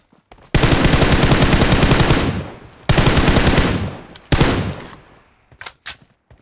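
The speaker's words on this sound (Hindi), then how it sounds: "अपार्टमेंट से मुझे फायरिंग हो रही थी, मतलब फायरिंग आ रही थी" Loud, sustained automatic gunfire in the mobile battle royale game BGMI. Two long rapid bursts are followed by a shorter one and a few scattered shots, very close and dominant.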